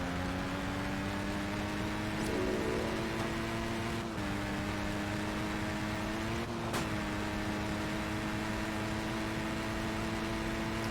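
Motorbike engine with wind noise in the Test Drive Unlimited driving game, a steady droning hum with a constant broad rush of air, pitch shifting slightly a couple of times as the bike changes speed, with no talking.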